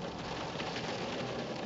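Steady rain falling outdoors in February, an even dense patter of drops at moderate level with no voices.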